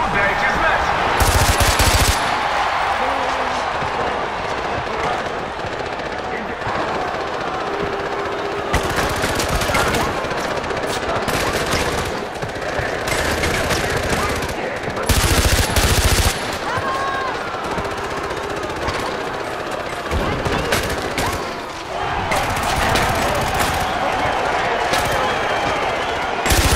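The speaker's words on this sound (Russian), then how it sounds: "Автомат." Automatic rifle fire in Far Cry 4's arena mode rattles off in repeated loud bursts of rapid shots, with quieter gaps of game ambience between the volleys.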